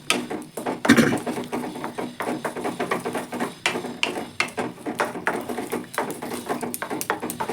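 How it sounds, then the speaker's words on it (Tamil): A spoon knocks and scrapes again and again against a pot as yam masiyal is stirred, a close, irregular clatter of taps with no talking. "நல்லா கலந்து விட்டுக்குவோம்."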